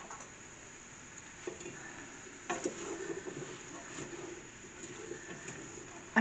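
Fresh celery and other vegetables sweat and brown in a pan with a soft, low sizzle, broken by occasional stirring scrapes and light clinks of a utensil against the pan.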